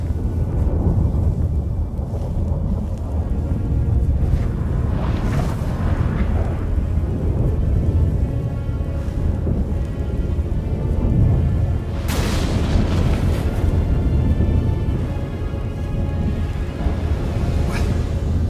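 Thunderstorm in the video game The Witcher 3: Wild Hunt, Hearts of Stone expansion: a continuous deep rumble with rolling thunder booms, a sharp crack near the twelve-second mark, no talking.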